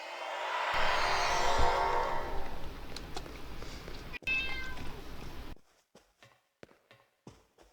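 A house cat begs for attention with a drawn-out meow close by, followed by quiet, light footsteps or soft taps after the call ends.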